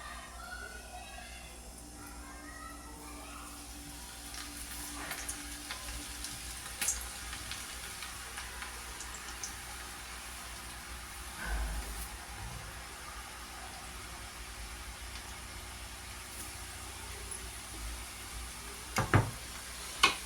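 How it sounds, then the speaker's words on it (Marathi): Potato chakli dough frying in hot oil over a medium gas flame, a faint, steady crackling sizzle with occasional soft clinks and knocks from utensils; no speech. "तापलं आहे आपलं तेल गाईज. गॅस मी मीडियम ठेवलेला आहे. आता आपण चकली सोडून घेऊया."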